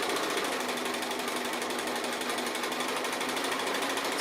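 A sewing machine runs at a steady fast stitch while free-motion quilting a long house-shaped Christmas table runner, close and loud with no pauses.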